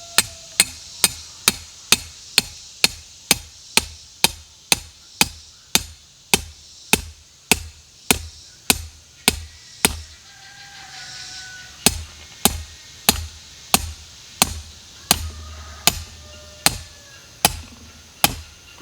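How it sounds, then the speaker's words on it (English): A 5/8 rebar stake hammered into the ground outdoors: sharp, loud metallic strikes in a steady rapid rhythm, about two blows per second, with a short pause midway before the pounding resumes. "I'm gonna hammer it down in the ground, about a foot."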